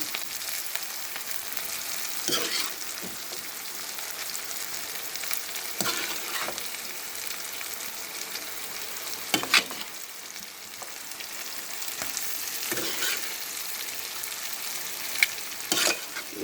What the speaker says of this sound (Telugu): ఇప్పుడు హార్ట్ పీసులు అలాగే కాందనకాయ ముక్కల్ని ఒక తాలింపులో వేస్తామండి